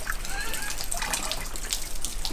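Rainwater from a leaking workshop roof collects in a tarpaulin and bucket, then runs through a hose pipe into a drain, giving a steady, soft trickle and dribble with light drips throughout.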